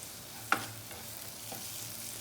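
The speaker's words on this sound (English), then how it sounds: "Now we'll cook this masala." Tomato masala for masoor dal tadka cooks in an oil-slicked pan, a soft steady sizzle under a single sharp clink of a spoon against the pan near the start, then quieter scraping stirs.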